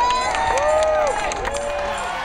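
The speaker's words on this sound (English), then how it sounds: "Let's give them a round of applause." An audience at a nurses' union (NYSNA) rally in New York cheers and applauds steadily, a dense, close wash of clapping and shouting with crowd babble underneath.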